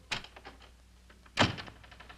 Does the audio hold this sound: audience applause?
no